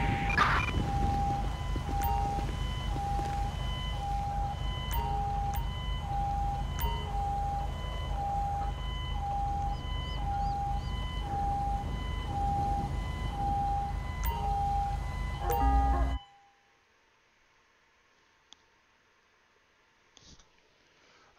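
In GTA 5 with the LSPDFR mod, an ambulance siren wails steadily and loud for about sixteen seconds over a low engine rumble with scattered clicks, then cuts off abruptly to near silence.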